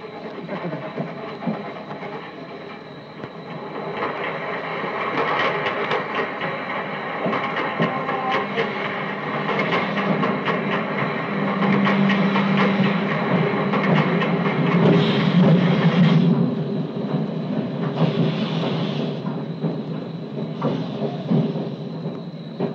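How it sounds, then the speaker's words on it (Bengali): A train pulls into a railway station in an old Bengali film scene, with a steady rumble and rhythmic wheel clatter that grows louder and fills the whole stretch, under faint voices. "ও ট্রেন এসে গিয়েছে।"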